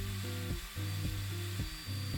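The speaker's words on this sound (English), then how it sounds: "While I have my battery drill out, I buff out the rusted axles." A cordless battery drill buffs the rusted axles of a Matchbox 17C Austin Metropolitan Taxi toy car, its steady motor whine cutting out and restarting in four short bursts, close and fairly loud.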